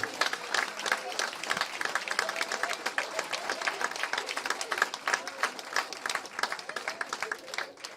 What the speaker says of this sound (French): Bonne main d'applaudissements encore, s'il vous plaît, pour nos diplômés des sciences de l'éducation et en sciences comptables.